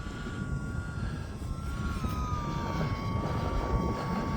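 E-flite UMX Timber X radio-controlled model airplane flying over snow in wind, a thin steady electric motor whine wavering in pitch as it passes, over constant wind rumble.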